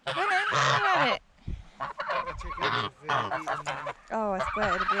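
Geese in a garden give loud, close honks in repeated bursts, separated by brief pauses, with no talk.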